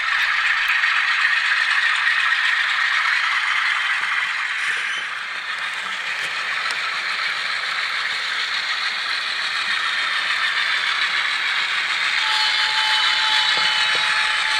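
Continuous mechanical whir and rattle of an Atlas RS-11 model train locomotive's small motor, with a steady hum and a faint tone from its factory LokSound decoder appearing near the end; no talking.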